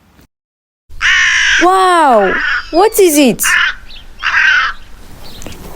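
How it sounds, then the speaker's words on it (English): A crow caws loudly and close in a few harsh, drawn-out calls, with a voice speaking briefly over part of it. "Right, it's a crow."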